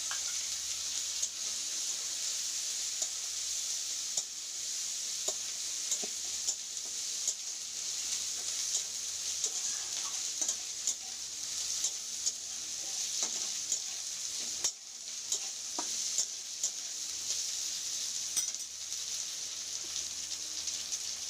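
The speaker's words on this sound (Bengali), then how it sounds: "এখানে বড় বড় বড়ি 4টা ভেঙে রেখেছি, এটা আমি এর সঙ্গে ভেজে নেব" Broken bori lentil dumplings frying in oil in a pan, a continuous bright crackling sizzle close by, with occasional soft stirring taps and scrapes throughout.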